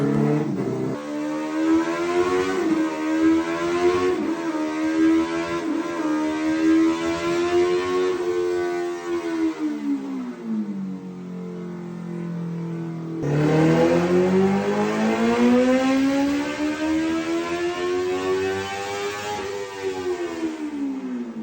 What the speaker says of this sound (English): Seamless gear changes, even to complete stop. Amazing sound with aero race exhaust.